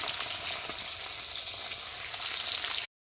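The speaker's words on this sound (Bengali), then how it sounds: "ওইদিকে মাছ ভাজা বসিয়ে দিয়েছি" Fish fry in a pan of hot oil, a bright, continuous crackling sizzle at moderate volume that cuts off abruptly just before the end.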